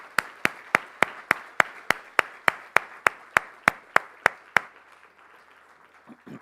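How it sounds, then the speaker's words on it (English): Applause for a speaker at a conscious leadership and ethics summit, heard as a steady series of about fifteen evenly spaced, crisp claps that stop abruptly, leaving faint room noise. "So once again, let's give Dr. Suleiman a big round of applause."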